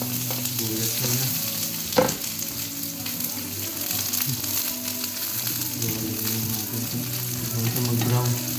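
Onion sizzling in a heated pan while squid adobo is being cooked, a steady close frying hiss with one sharp clatter near the start and faint stirring throughout.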